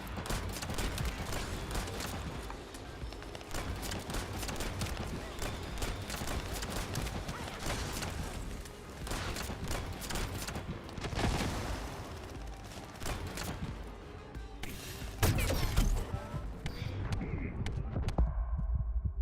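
Gunfire from the shooter video game The First Descendant, a long stretch of rapid automatic bursts and sharp repeated shots with mechanical clatter, loud and nearly continuous, with a heavier volley near the end.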